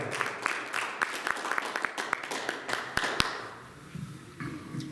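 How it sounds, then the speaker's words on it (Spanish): Church congregation clapping during a sermon, a loose patter of scattered hand claps in a hall that thins out and fades toward the end, moderately distant and fairly quiet. "Un aplauso a Cristo."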